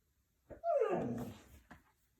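A dog gives a short yelp, then a drawn-out whining whimper that fades, and ends with a brief bark, all close and clear in a quiet room.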